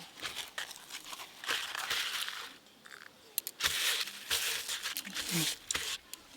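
A pumpkin leaf is folded around fish roe with mustard oil for Bengali paturi, giving close, crisp crinkling and rustling in uneven bursts with brief pauses.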